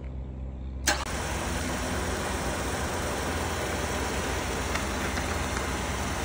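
A 2013 Mazda 5 at a police auction starts on a jump start with a sharp catch, then settles into a steady running engine. The hum holds evenly under a faint hiss, and nobody speaks.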